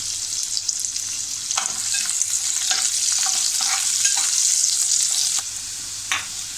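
Onion fries in a hot tempering for a Malvani-style peas and potato curry, a dense, close sizzle with repeated stirring scrapes that eases off near the end.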